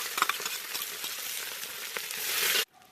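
Onion sizzles and crackles loudly in a hot pan over an open fire for bograch, a dense steady frying hiss that cuts off abruptly near the end.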